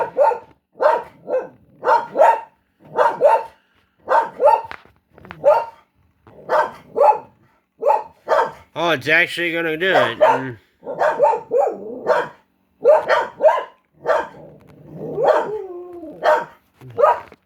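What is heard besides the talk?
dogs barking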